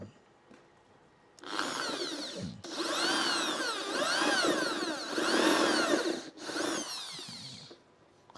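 A power drill fitted with a step drill bit bores a hole, a loud whining grind in several sustained pushes separated by brief pauses, close up with no talking.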